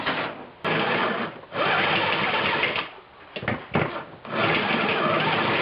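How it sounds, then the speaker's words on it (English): A drill bores a hole in the car radiator of a 1976 Mazda RX-5 Cosmo for a heater takeoff, a close, loud whine running in several bursts with brief pauses between them and no talking. "I've drilled a hole in it for a heater takeoff."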